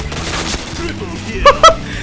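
A 25-round gun in the video game Point Blank fires in a quick burst of shots under someone talking, set against busy game sound.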